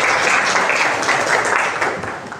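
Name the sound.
applause, clapping hands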